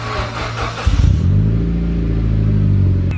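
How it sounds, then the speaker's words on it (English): A Mitsubishi Lancer Evo X with a single-tip exhaust cold starts: a brief cranking burst, then the engine catches and settles into a loud, steady, humming idle close by. "That was the weakest cold start ever."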